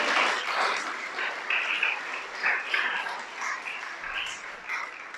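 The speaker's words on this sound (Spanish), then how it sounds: "Dale un aplauso." A congregation applauds during a sermon, steady moderate clapping throughout, somewhat distant with a roomy wash and no clear voices over it.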